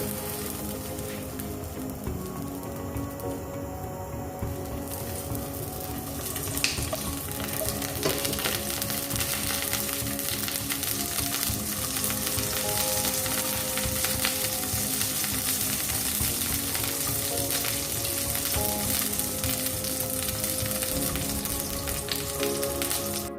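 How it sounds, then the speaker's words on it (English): Sausages fry in a hot pan for an English breakfast with a dense, steady crackling sizzle throughout, close and even, briefly disturbed near the start as they go in, with no voices. "I think now the pan is hot enough to put. So let's first put the sausage."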